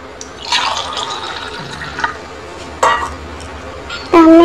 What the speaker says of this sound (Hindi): आधा गिलास और डाल देते हैं।